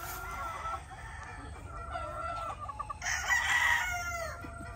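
Gamefowl hens cluck softly in the background on a breeding farm as a broodcock rooster crows, followed by a louder crow near the end.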